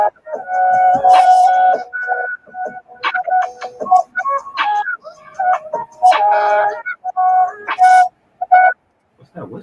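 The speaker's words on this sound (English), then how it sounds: "What's that whistle?" Whistled melodic notes from a video intro play in short, rising and falling phrases with brief gaps, loud and close, alone with no talking over them.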